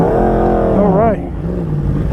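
A Yamaha R1 sport bike rides past, its engine rising in pitch and then dropping off as it passes close by and pulls away, loud at first and then steady in the distance.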